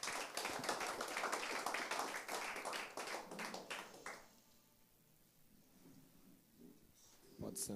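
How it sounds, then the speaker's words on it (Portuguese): Church congregation at a pastoral meeting claps energetically in a dense burst of applause, loud and close, which stops abruptly after about four seconds, leaving quiet room tone and faint movement before a brief sound at the end. "Um aplauso a Jesus."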